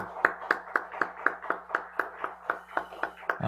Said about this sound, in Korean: 우리 하나님 앞에 영광의 박수 한번 올려드리십시다